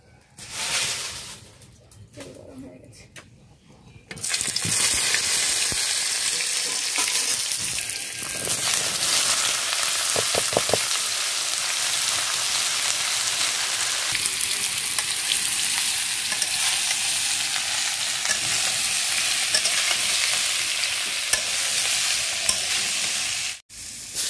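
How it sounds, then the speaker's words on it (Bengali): Potatoes and young jackfruit fry in hot oil in a wok, giving a loud, steady sizzle that continues unbroken after a few quieter seconds at the start. "এবার আলু আর কাঁঠালগুলো আলাদা আলাদা করে ভেজে নেব"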